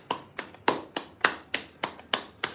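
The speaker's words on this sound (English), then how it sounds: "Let's clap it up for them." Hands clapping in a steady rhythm, about nine sharp, close claps evenly spaced, with no talking over them.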